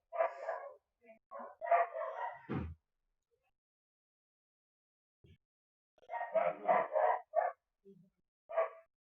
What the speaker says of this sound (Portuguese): E agora meus cachorros começam a latir.